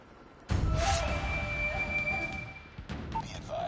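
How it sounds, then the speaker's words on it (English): Stealth chopper helicopter in the Call of Duty Mobile video game, Domination mode on the Raid map: a sustained whirring drone with steady whistling tones that rises abruptly and holds for about three seconds before tapering off. "Hostile stealth chopper inbound."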